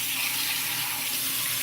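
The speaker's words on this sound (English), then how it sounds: "Give it a good rinse under some hot water." A reusable coffee filter rinsed under a running hot tap, a steady broadband rush of water splashing over mesh, continuous and fairly close with no talking.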